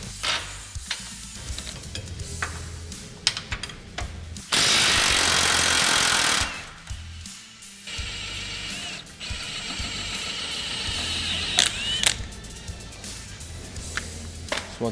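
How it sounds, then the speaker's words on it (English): Axle nut on a Polaris RZR PRO R being removed with a 30mm socket: clicks and knocks of tools, a loud two-second burst of impact or ratchet noise in the middle, then ongoing metallic working sounds, no talk. "Then we're going to grab our 30mm socket for our axle nut. Remove the axle nut."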